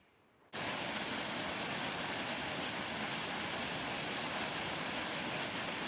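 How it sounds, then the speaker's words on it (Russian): An artificial waterfall on the Khrevitsa river in hard winter frost roars as a steady, dense rush that starts abruptly after a brief quiet moment and continues unchanged. "этот искусственный водопад на речке Хревице я особенно хотела увидеть во время сильных морозов"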